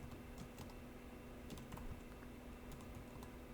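Quiet keystrokes on a computer keyboard while ad text is entered, a loose run of soft clicks in irregular bursts over a low steady room hum, with no voices.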